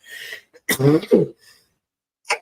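A single sharp sneeze with a quick intake of breath, close to the microphone, followed by a faint short breath sound.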